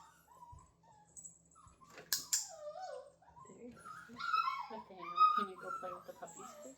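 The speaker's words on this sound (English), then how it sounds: "Nathaniel, can you go play with the puppy?" A 40-day-old puppy whimpers and whines in soft, high-pitched cries, rising and falling, close by and fairly quiet, with faint talk around it.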